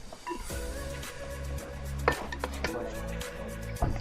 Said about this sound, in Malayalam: തകൃതിയിൽ ഇളക്കിക്കൊണ്ടിരിക്കുകയാണ്